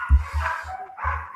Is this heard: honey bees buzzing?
no